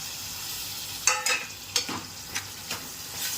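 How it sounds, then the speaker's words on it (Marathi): Onion and tomato sizzle in a hot pan for a spicy crab curry, a steady frying hiss broken by several sharp scraping stirs of a spoon, close and fairly quiet, with no talking. "टोमॅटोलाही चांगलं परतून घ्यायचं."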